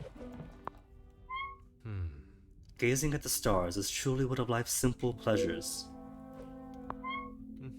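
A cat gives a couple of short, thin meows, one near the start and one near the end, with a person speaking in between.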